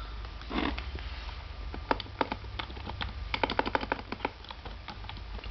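Typing on a Logitech Wave Pro keyboard with soft rubber grips produces quiet, irregular key clicks, sparse and then in quicker bursts, close by over a low background hum.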